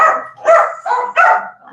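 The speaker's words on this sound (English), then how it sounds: "Hence the dogs barking." Several loud dog barks come in quick succession, close by, with short gaps between each bark.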